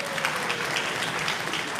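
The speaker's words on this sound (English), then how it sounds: "Bit of a round of applause for the Great Escape" An audience at a music venues industry conference gives a brief round of applause, a dense, even patter of many hands clapping throughout with no break.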